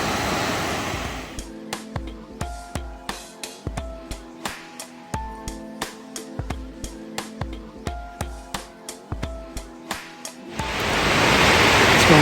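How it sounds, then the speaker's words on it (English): The Ithaca Falls cascades roar as a loud, dense rush of water at the start and again at the end, while rhythmic plucked music with a steady beat covers them through the middle. "came over here to get these cascades in the foreground"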